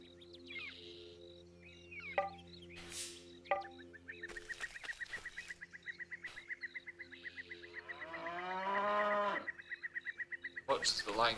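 A lying-down cow in the video game Blue Dragon gives a long, drawn-out moo over looping game music and ambient tones, with a few short clicks and rhythmic pulses around it.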